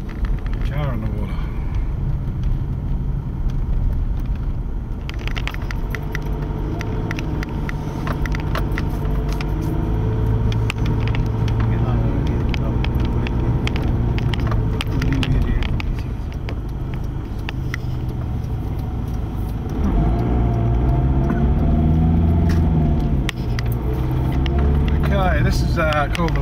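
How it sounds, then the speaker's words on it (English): A car drives across wet beach sand near the water's edge on the Leisure Track at Rainbow Beach, its engine and tyre rumble continuous with splashy bursts, and someone talks over it. "Car on the water."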